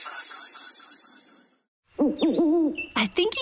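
An owl hoots several times in a radio advert for Whiteman Park's EnviroFest 2024, loud, clear and close after a short gap of silence that follows a fading music outro.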